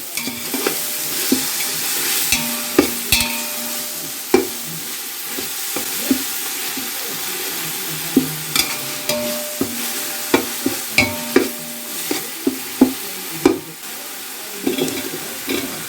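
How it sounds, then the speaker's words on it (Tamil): Ingredients for chicken biryani sautéing and being stirred in a pan, with a steady sizzle under repeated scraping and clacking strokes of the spoon across the pan, close and fairly loud throughout. "போட்டு நல்லா கொஞ்சம் நேரம் வதக்கி விடுங்க"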